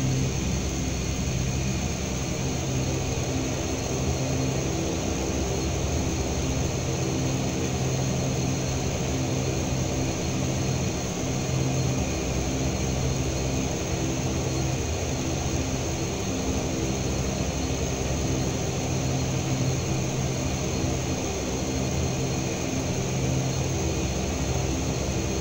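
An aircraft APU drones inside the Prepar3D flight simulator, a steady, even engine hum with a high whine that holds unchanged throughout, with no voices over it.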